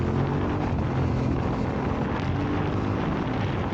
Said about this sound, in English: God, that exhaust is noisy.